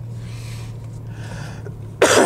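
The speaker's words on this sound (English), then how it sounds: "You're going to have to endure me blowing my nose." A short, forceful nose blow bursts out at the end after a steady low hum and quiet room noise.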